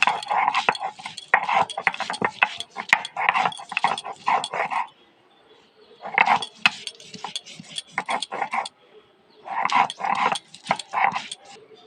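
Ginger and garlic ground together into a paste for a Bengali raw prawn curry with lemon leaves: a rough, growling grinding close by, in three bursts with short pauses between them and no talk.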